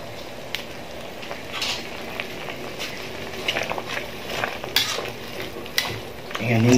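A second pressing of coconut milk and a little water simmers in a pot with crab and banana blossom, giving a soft bubbling hiss punctuated by stirring scrapes and clinks of a utensil, with no talking.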